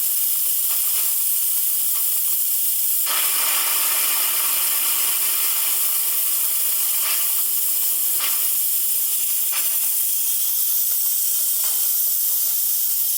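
An Instant Pot cooking a beef roast with small gold potatoes vents its steam in one loud, continuous hiss lasting over thirteen seconds, with faint clicks and knocks at intervals underneath.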